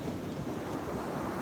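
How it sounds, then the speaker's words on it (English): Wind buffets the microphone while loud ocean waves surge on a stormy beach, a dense continuous roar with no voices. "It's a little bit windy and the waves are rather loud."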